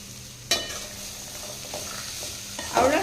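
A few scraping stirs of green pea sundal in a pan, with a sharp clatter at the start and a sizzling scrape near the end, over a soft steady background.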